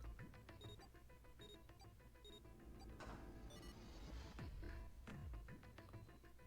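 Repeated electronic beeps chime in a steady pattern over a busy, noisy soundtrack with rumbling effects in the video game 999: Nine Hours, Nine Persons, Nine Doors.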